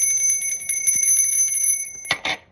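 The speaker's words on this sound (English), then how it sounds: "I'm gonna ring the bell for that." A small bell is rung, leaving sustained bright ringing tones that linger and decay, followed near the end by a couple of short sharp strikes.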